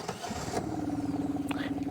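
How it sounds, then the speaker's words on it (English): A Suzuki outboard motor on an Alumacraft boat catches and settles into a steady, rhythmic idle after a brief cranking burst, close and moderately loud. "let's go ahead and get this engine started and do a bit of a run"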